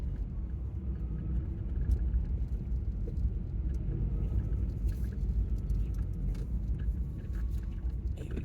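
A large vehicle towing a horse box drives away as a steady low rumble, moderately faint and unchanging throughout, with no talk over it.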